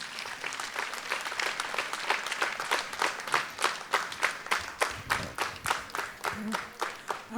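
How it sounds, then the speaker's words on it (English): An audience at a dance evening claps for the chief guest, beginning as a general round of applause and settling into slow, evenly spaced rhythmic clapping in unison, with brief murmurs underneath. "A round of applause."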